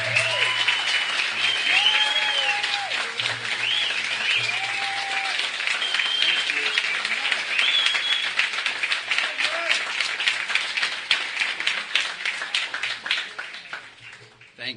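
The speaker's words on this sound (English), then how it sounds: "it gets embarrassing when the applause you get before you speak are longer than the applause you get after you speak" An audience claps at length to welcome a speaker at a forum, a dense, sustained round of applause that thins out toward the end, with occasional vocal sounds over it.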